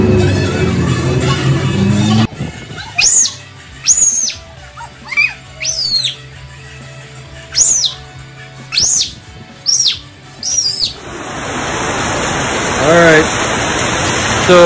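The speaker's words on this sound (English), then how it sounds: "you see that it's raining quite hard here" Chirping bird calls come in short repeated bursts, then a heavy rain downpour takes over as a dense, steady hiss close by for the last few seconds.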